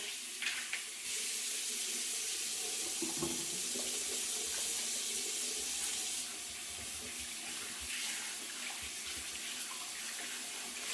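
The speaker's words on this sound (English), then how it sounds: "let me wash my hands here" Tap water runs steadily into a sink for handwashing, a loud broadband rush that starts abruptly, holds for several seconds, then drops to a softer flow.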